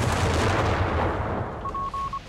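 Artillery shells land during a Company of Heroes 3 battle as a continuous low, rumbling barrage of muffled blasts. A thin electronic tone chimes briefly near the end.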